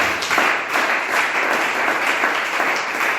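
Church congregation breaking into steady, dense applause for the Lord, a sustained wash of many hands clapping together at fairly close range.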